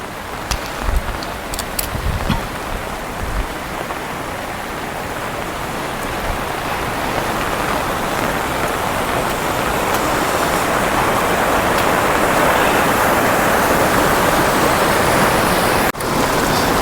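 Floodwater from the Girna dam flood pours down temple steps from an overflowing water tank, a loud steady roar of rushing water throughout, close and continuous with a few sharp knocks.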